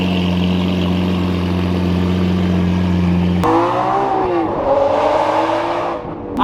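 A Lamborghini Aventador, with a clutch that still feels fine, is driven with its engine running loud and close: a steady idle-like drone, then a sudden change as the engine note rises and falls with revving, no talking.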